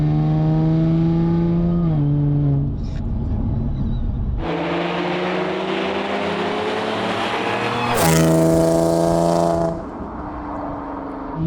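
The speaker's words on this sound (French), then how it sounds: "c'est le son de ton échappement" Loud supercharged Audi S4 B8 engine roar rising and falling through gear changes, with a rasping, droning exhaust note and a sharp high-revving surge near the end.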